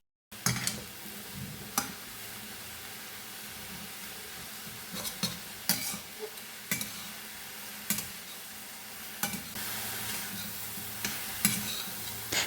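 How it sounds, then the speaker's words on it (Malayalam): Ponnamkanni greens thoran cooking in a pan with turmeric powder, stirred repeatedly with a spoon; scattered scrapes and clicks against the pan over a soft, steady sizzle, close and fairly quiet. "വീണ്ടും ഇളക്കി"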